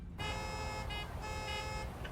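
A truck horn in American Truck Simulator blares in two long blasts split by a short toot, then a faint final chirp, steady and fairly quiet, with no talking.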